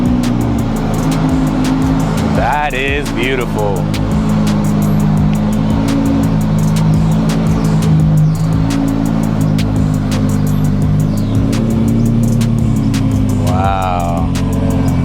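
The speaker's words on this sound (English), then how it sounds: "Sounds like a Lambo to me." Lamborghini Huracan STO supercar running steady and loud throughout, a deep engine drone with some rising revs, while someone speaks briefly over it.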